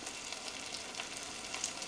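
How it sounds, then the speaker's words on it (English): Steady, even sizzle of butter heating in a nonstick ceramic electric portable cooker pot, a continuous close crackle with no voices. "I'm already hearing some sizzle in the pot of the butter"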